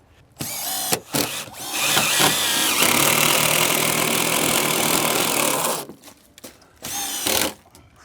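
A power drill driving screws into composite decking: brief whirring bursts, then a sustained loud run of several seconds as the screw sinks, followed by more short bursts and pauses.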